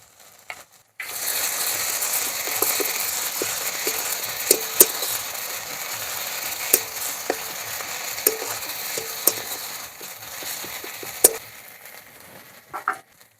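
Onions frying in a pan with ginger-garlic paste and Kashmiri chilli powder for a koi fish and brinjal curry, a steady close sizzle with scattered sharp crackles and stirring clicks, with no talk.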